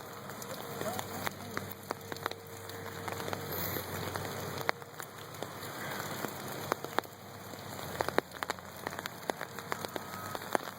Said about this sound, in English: This is the river on a rainy day.